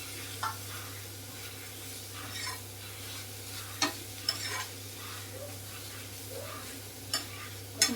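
Cucumber fries in a pan and is stirred and mixed, with a soft steady sizzle and a few light scrapes and taps of the utensil against the pan at a close distance.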